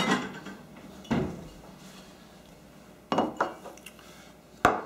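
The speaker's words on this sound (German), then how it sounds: "Dann richten Sie sich einen Teller her." A plate set out in a kitchen while making Palatschinken, with several clattering knocks of crockery and utensils spaced irregularly over a quiet room background.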